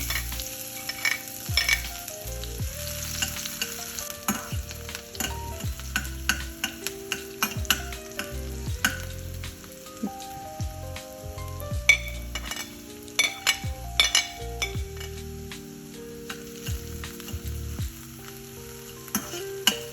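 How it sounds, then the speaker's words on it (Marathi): Finely chopped onion sizzles steadily in low-cholesterol oil in a pan, with stirring scrapes throughout and background music playing. "बारीक चिरलेला कांदा घालायचा."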